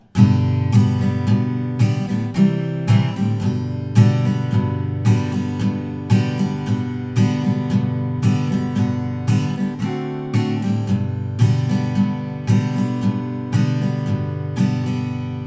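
Strummed guitar chords of a song intro play in a steady repeating rhythm, full and close, each strum accented with sustained ringing between beats.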